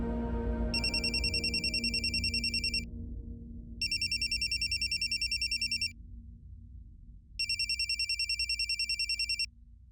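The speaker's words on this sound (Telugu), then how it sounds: "ఇప్పుడే సాగర్కి ఫోన్ చేస్తాను." A telephone rings on a call in a domestic scene, sounding three loud electronic ringing bursts separated by pauses, with no speech.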